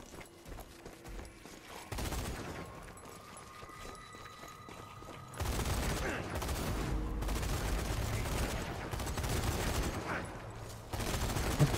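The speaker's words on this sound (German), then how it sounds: "du schießt da durch?" In the zombie shooter Zombie Army 4: Dead War, sparse shots give way to dense, sustained gunfire that grows louder over the last half, with footsteps mixed in.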